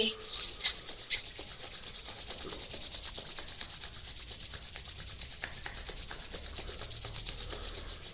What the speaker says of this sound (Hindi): दोनों हाथों को रब करेंगे।